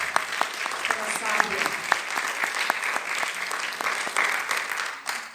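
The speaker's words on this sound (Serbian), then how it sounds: "Jedan aplauz za Centar za kulturu i obrazovanje Rakovica" An audience at a church choir festival applauds steadily throughout, with many hands clapping densely and a few sharper claps standing out. The applause fades slightly at the very end.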